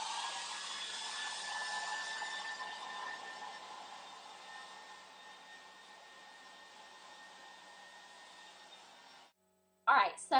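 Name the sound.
hair dryer blow drying hair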